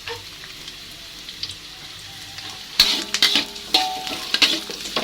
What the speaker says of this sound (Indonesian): Setelah itu saya memasukkan bawang merahnya.